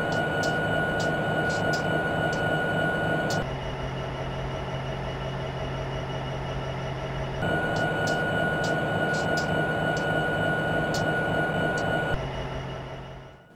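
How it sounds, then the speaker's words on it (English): Diesel prime mover of a Norfolk Southern GP33ECO locomotive in the Train Simulator game, a steady engine drone alternating between a louder and a quieter cab-style sound, with regular clicking ticks during the louder stretches. "As for the prime mover sounds, these are rather weird, in the sense that the external and internal sounds don't match at all."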